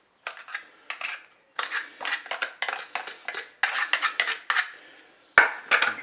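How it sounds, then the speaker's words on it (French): Mackerel fillets go into a salad bowl with green beans and mustard sauce, handled with utensils: a run of close, crisp clinks and scrapes of metal against the bowl in irregular bursts, ending with a sharper knock. "Je vais mettre les maquereaux dans le saladier."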